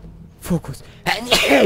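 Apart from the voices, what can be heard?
sneeze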